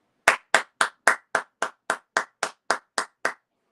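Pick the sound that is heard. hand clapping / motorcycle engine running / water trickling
hand clapping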